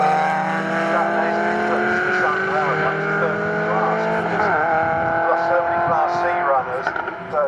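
MGCC racing cars roar around the Snetterton circuit, engines holding high sustained pitches that shift as the cars change gear and pass. A commentator talks over the engine noise throughout.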